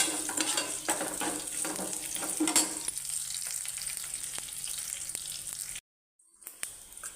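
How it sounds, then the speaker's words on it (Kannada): Dried red chilies, ginger and garlic fry hard in hot oil in a pan, a loud steady sizzle with scattered stirring clicks that drops out briefly near the end, then resumes; no talking. "ಒಣ ಮೆಣಸು ಕಟ್ ಮಾಡಿ ಹಾಕ್ಕೊಳ್ತಾ ಇದ್ದೀನಿ"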